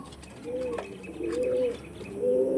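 A Kalanka pigeon coos three times in a slow, even rhythm, soft and close, over a quiet background with faint clicks.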